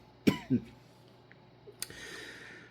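Two short, fairly quiet coughs close together, followed by a faint sharp click and soft breathy noise.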